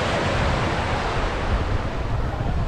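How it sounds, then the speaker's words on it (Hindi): Sea waves at Bandstand, Mumbai, roar as a steady, loud wash of surf mixed with gusty wind buffeting the microphone, continuous with no talk. "समुद्र की लहरें की आवाज़ बहुत ही ज़्यादा तेज़ आ रही है"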